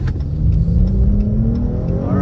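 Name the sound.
V6 muscle car accelerating hard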